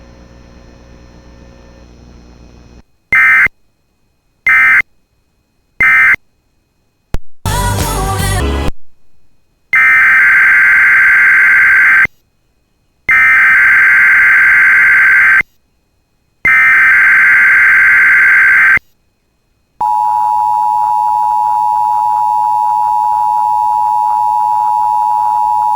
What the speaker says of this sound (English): The National Weather Service in Chanhassen, Minnesota has just activated the warning alarm on 13 weather radio stations